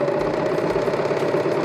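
A serger stitches a rolled hem along a cloth napkin, giving a steady, fast mechanical whir and rattle that stays even and close throughout.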